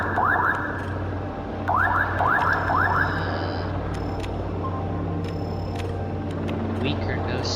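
An electronic alarm in the game Voices of the Void goes off as a drone arrives, a run of rapid rising chirps repeating in short bursts over a steady hum while a voice talks throughout.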